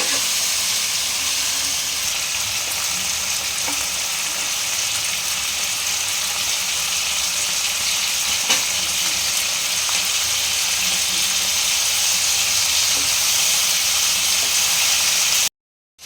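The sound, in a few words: cashews frying in a pan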